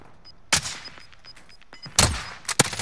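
Sniper rifle shots in a first-person shooter video game, several sharp, loud cracks with reverberant tails, one early and two close together near the end, with faint electronic beeps between them.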